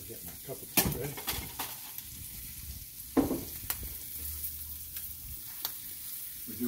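Ham and cheese sandwich frying in a GraniteStone pan, a low steady sizzle broken by a few sharp clacks of utensils against the pan.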